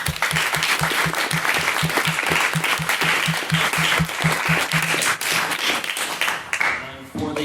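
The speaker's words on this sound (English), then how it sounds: "we can get one more round of applause for all of our brilliant speakers" A debate audience gives a sustained round of applause for the speakers, dense clapping that runs loud and steady before tapering off near the end.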